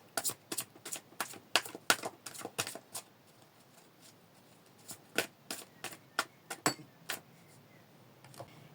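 Oracle cards being shuffled and drawn during a tarot-style reading, heard as a run of crisp, close riffling snaps in quick bursts, a quiet gap around the middle, then more sharp flicks and card slaps.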